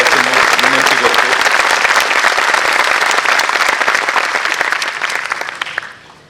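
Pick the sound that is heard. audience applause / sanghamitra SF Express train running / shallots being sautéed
audience applause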